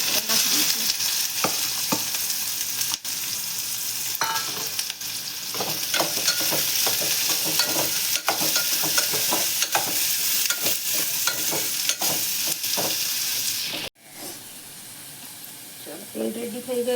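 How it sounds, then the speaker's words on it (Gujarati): Chopped onions sauté in hot oil seasoned with asafoetida. A steady, close sizzle carries repeated spatula scrapes and clicks. The frying drops quieter after a sharp break near the end. "આ કાંદા કટ કરી રાખ્યા છે એને પણ હવે તેલમાં આપણે સાતળા નાખી દઈશું"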